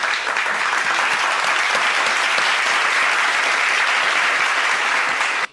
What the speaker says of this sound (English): Applause track.